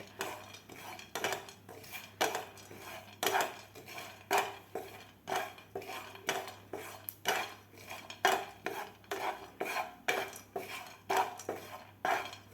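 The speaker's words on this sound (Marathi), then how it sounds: "हे सुद्धा आपल्याला बारीक गॅसवर व्यवस्थित भाजून घ्यायचे आहेत" Sliced cashews, almonds and pistachios roasting over a low flame as a utensil stirs them in a metal pan, giving steady rhythmic scraping and clinking strokes, fairly close, with a faint low hum beneath and no talking.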